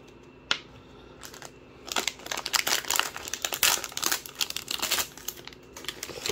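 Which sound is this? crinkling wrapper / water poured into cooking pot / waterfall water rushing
crinkling wrapper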